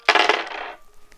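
Dice rolled for a storytelling game give a short, bright rattling clatter of quick knocks that fades within a second, followed by near quiet.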